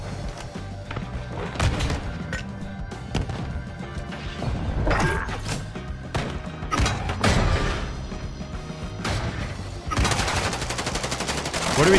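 Gunfire in a first-person shooter video game, with irregular bursts of shots, crashes and impacts throughout, ending in a loud sustained automatic volley.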